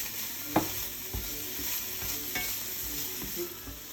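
Spring onion sizzles in hot oil in a frying pan standing in for a wok, a steady broadband hiss with a few sharp utensil clinks and scrapes against the metal, close and moderately loud.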